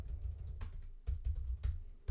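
Someone types on a computer keyboard while writing code in an editor: soft, irregular keystroke taps, faint and close, with no talking.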